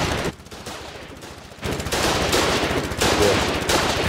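Grenade mortar fire in the online war game Foxhole comes as loud, dense bursts of explosive thumps and crackling gunfire-like blasts, dipping briefly before resuming, with no talk.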